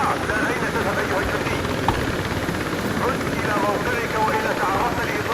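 A helicopter in the Battlefield video game, set in Somalia, drones loudly and steadily with a continuous rotor thrum throughout, while a voice talks over it.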